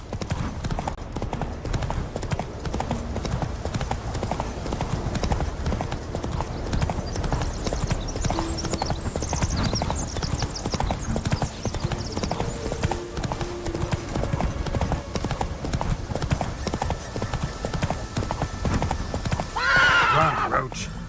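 A horse gallops in The Witcher 3: Wild Hunt, rapid hoofbeats drumming continuously up close, with occasional neighs and a voice speaking over the ride.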